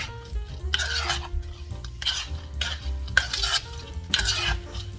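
A spoon stirs a bourbon, Coke and cherry mixture in a bowl, making rhythmic scraping swirls with light clinks at a steady pace, close and fairly loud, with no talking.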